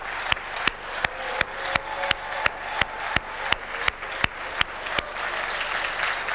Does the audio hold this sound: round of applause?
yes